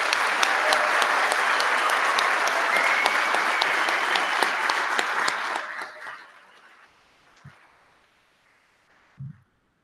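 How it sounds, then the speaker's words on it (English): Warm, dense applause for a firefighter recruit class at its ceremony, steady for several seconds before tapering off into near silence with a couple of faint knocks. "So please give them a round of applause."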